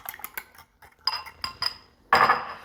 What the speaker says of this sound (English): Just break your eggs into a bowl and give them a quick mix, just using a fork.